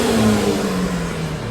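A 2020 Buick Regal GS with a 3.6 liter V6 revs, a loud close steady growl with a low droning tone that sags slightly in pitch across a brief moment.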